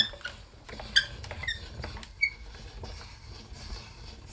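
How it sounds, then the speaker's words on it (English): A die-cut jar shape is being removed from a cutting die after hot-foil card making, giving a few faint, sharp squeaks and light clicks over quiet handling noise. "Squeak, squeak."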